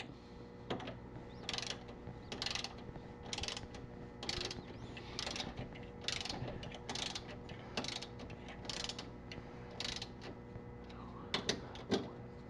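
A ratchet snugs up the sway bar bracket bolts on an Aston Martin DB9, making repeated quick clicking bursts in a regular rhythm, close and fairly quiet, with a few sharper metallic clicks near the end.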